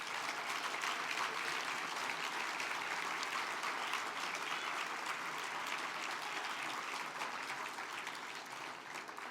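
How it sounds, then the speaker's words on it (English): Steady applause from a large crowd at a business awards gala, dense clapping sustained throughout and easing slightly at the end. "How about one last round of applause for everyone in the room who made tonight possible?"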